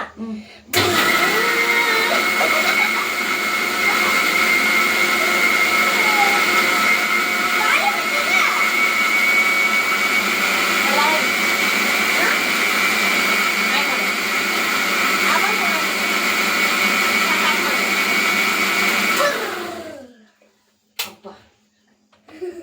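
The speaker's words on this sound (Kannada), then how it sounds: "ಇನ್ನೊಂದ್ಸತಿ ಮಿಕ್ಸಿ ಹಾಕಕ್ಕೆ ಬರಬೇಡ ನೀನು" A kitchen mixer grinder runs with a loud, steady motor whine for most of the stretch, then winds down and stops near the end, followed by a few faint knocks.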